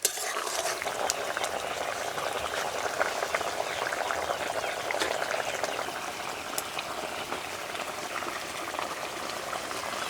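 Vegetarian papaya curry with bori simmers in a pan, a steady close bubbling and soft popping that runs evenly throughout with no voices.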